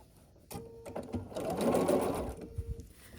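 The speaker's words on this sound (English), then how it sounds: "And we're going to sew these together." A sewing machine runs at steady speed, stitching together fabric pieces for a scrappy sampler quilt block, a close, continuous mechanical whirr that builds in the middle and eases off, with no talking.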